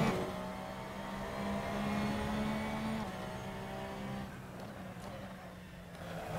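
Race car engine in Assetto Corsa on the Mugello circuit, held at a steady drone that shifts pitch partway through as the car slowly picks up speed, loud and continuous with faint background noise.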